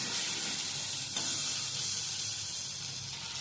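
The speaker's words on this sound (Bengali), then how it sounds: "ভালো করে নাড়াচাড়া করে ভেজে নেব।" Red amaranth stems and potato stir-fry in a pan with ground ginger and mustard paste, giving a steady, close sizzling hiss with soft stirring under it and no talk.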